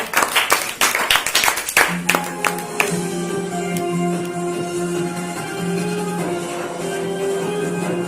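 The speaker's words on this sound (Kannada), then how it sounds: "ಜೋರಾಗಿ ಚಪ್ಪಾಳೆ ಬರಲಿ." An audience at a Kannada quiz show claps in a burst of sharp, overlapping hand claps for about two seconds, then a sustained tonal hum and music take over.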